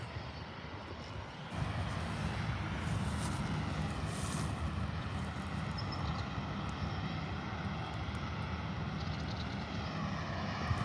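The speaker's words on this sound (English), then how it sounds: "Air New Zealand's finally heading into the gate after 20 minutes on ground in Adelaide." An Air New Zealand airliner taxis toward the gate at Adelaide Airport, a steady, distant jet engine rumble and whine that holds evenly throughout with no voices.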